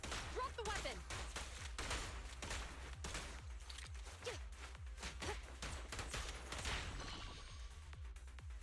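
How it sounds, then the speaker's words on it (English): Rapid bursts of shotgun shell blasts from a character's charged basic attack in the Zenless Zone Zero video game, repeating in quick succession amid busy game effects and music. "Press and hold her basic attack. Unleash up to 3 shot shells."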